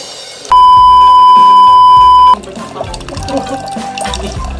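A loud steady electronic beep as a sensor switches a water pump back on, then running water splashing and trickling beneath, close and continuous.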